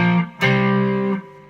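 An electric guitar on its neck pickup with distortion: one sustained chord is cut short and immediately re-struck, ringing thick and warm before fading out. Loud and close, with no voices.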